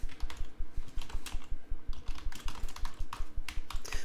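Rapid, steady typing on a computer keyboard while writing an essay, close and brisk keystroke clatter with no voices.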